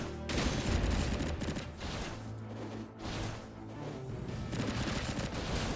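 AK rifle gunfire in the action game Skul: The Hero Slayer, loud sustained automatic bursts with dense rattling shots and booming impacts, briefly easing mid-way before resuming.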